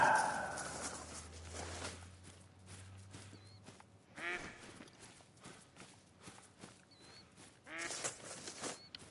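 Mallard ducks in the hunting game theHunter: Call of the Wild give scattered faint quacks amid quiet outdoor ambience and repeated footsteps on ground.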